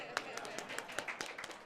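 Light, scattered clapping from an audience at a live small-business event continues steadily but quietly, with a speaking voice running over it.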